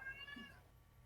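A cat lets out a single short, nasal meow close by, rising and fading within half a second against a quiet room hum.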